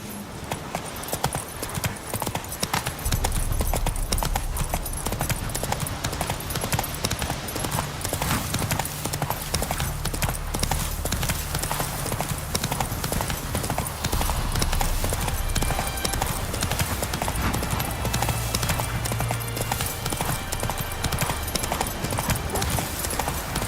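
Horse hooves clip-clop steadily in a continuous galloping rhythm in The Witcher 3, loud and near throughout, layered over a dense background of game ambience and music.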